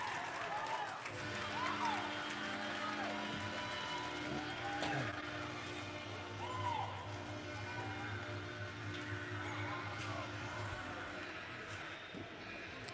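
Crowd murmur fills an arena at a regular-season hockey game between Westport and Morrisburg, a steady, distant wash of chatter with occasional higher calls rising above it.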